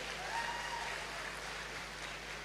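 An audience at a public gathering claps in steady, dense applause heard from a distance, faint and continuous.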